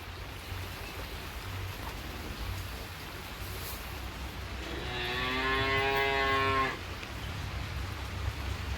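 On a farm, a single cow lets out a long, loud moo over a steady hiss of rain, lasting about two seconds before fading back into the downpour.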